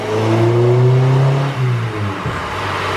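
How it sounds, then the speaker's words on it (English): A Honda VTEC engine revs hard up to a high-pitched scream, then the pitch drops away quickly as the throttle eases off, loud and close. "Gotta love that VTEC."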